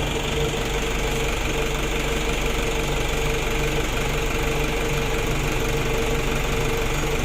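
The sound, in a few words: Mitsubishi L300 diesel engine running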